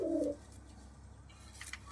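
A male Teddy pigeon gives one short, soft coo at the start while being held in a hand, then only a faint hush remains.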